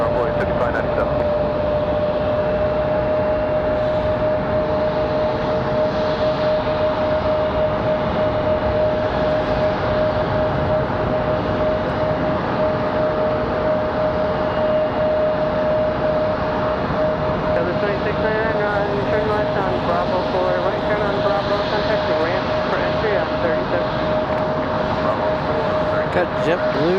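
An airliner departs Raleigh Durham International Airport, its steady broadband engine roar sustained and loud throughout, with a constant tonal whine running underneath and no pauses.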